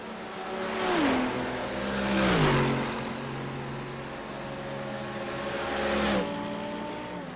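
GT3 race cars at Monza in a sim racing game, loud engine notes dropping in pitch as they brake and downshift, several cars passing close in waves.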